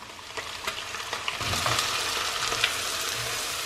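Chopped onion and garlic sauté in rendered bacon and sausage fat, a close, steady crackling sizzle that swells and thickens after the first second or so, with faint stirring clicks and no voices.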